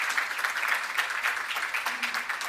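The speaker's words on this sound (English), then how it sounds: "Another round of applause for Jorge." Audience applause following a conference keynote talk, a dense, steady wash of clapping that holds at even loudness for the whole stretch without pause.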